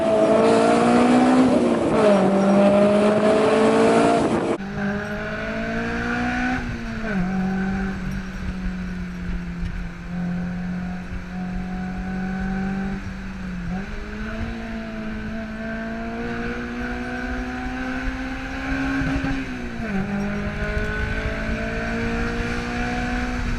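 Honda S2000 engine revving hard and driving, a loud, close, high-pitched engine note that climbs and drops through gear changes over a sustained run, without any voices.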